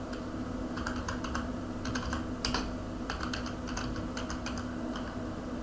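Quick bursts of typing on a computer keyboard, with light clustered keystrokes and short pauses, heard close over a steady background hum, with no voices.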